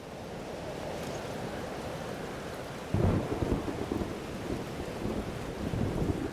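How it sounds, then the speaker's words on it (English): In the Life Is Strange: Double Exposure video game, a thunderstorm with steady heavy rain hisses throughout, and a deep roll of thunder booms in partway through and rumbles on. "Weather's worse than I remember it. Storm followed me."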